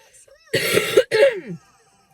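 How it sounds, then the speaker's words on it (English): A person coughs twice in quick succession, close and fairly loud, with quiet surroundings before and after. "I'm so fed up of this cough."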